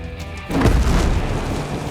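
A rocket blast in the Ghost Recon Breakpoint shooter erupts after a quiet half-second, a single heavy low boom that rolls on as a loud, rumbling tail.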